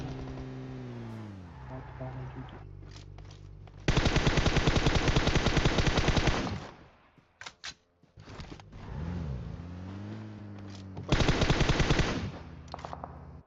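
Long bursts of rapid automatic gunfire from PUBG Mobile crackle loudly, broken by scattered single shots and a revving engine hum in the background.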